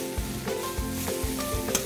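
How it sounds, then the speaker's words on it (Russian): A large frying pan full of spinach sizzles steadily, with soft stirring scrapes recurring against the constant hiss, close and moderately loud, no voices. "Вроде положил большую сковородку, полную шпината."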